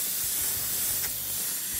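A steady airbrush hiss sprays paint continuously for a couple of seconds on a car, painting realistic flames, close and fairly loud.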